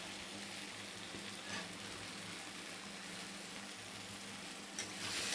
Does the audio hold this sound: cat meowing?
no